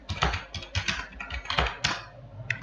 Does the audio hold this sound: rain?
no